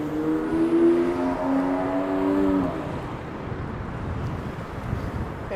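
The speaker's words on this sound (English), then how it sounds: "It is getting windy and it is also getting twilighty." Steady wind rumbles and buffets a microphone throughout, with a low droning hum in the first half and no clear speech.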